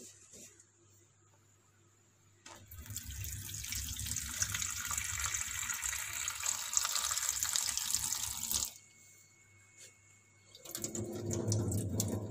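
Water from a tap poured over mung bean sprouts in a pot, a steady splashing stream lasting several seconds, then a brief pause before a second, lower pour, close up and with no talking.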